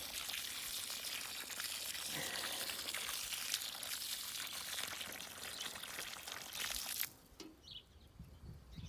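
Water pours steadily from a watering can onto the ground in a citrus grove for several seconds, a close rushing splash that stops abruptly, leaving faint outdoor ambience.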